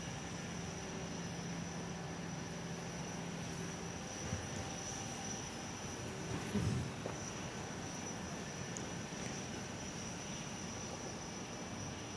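An aircraft at Perth Airport makes a faint, steady engine drone with a low broadband rumble. It holds fairly even, with a slight swell midway, heard from a distance and with no talk.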